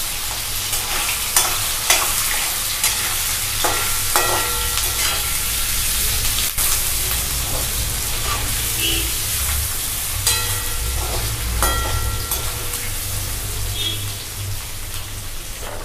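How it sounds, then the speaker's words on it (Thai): Fish frying in mustard oil in a pan, a loud, steady close-up sizzle and crackle with occasional scrapes and clinks of a spatula throughout. "ในกระทะก็ใส่น้ำมันมัสตาร์ดไปแล้วนะคะ แล้วก็เอาปลาเนลงทอด"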